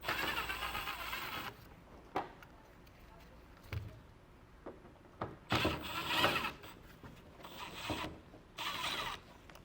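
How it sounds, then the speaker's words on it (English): T15 Torx screws being backed out of a wheel well liner on a 2023 Chevrolet Silverado, several bursts of ratchet-like whirring and clicking close up, separated by quieter pauses with faint background noise. "there's T15 Torx bit screws. So we'll work our way all the way around until we get them all pulled out."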